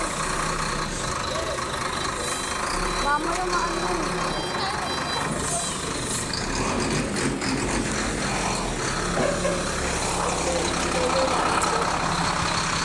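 A truck engine idles on a road close by, a steady low rumble running underneath continuous conversation and street noise.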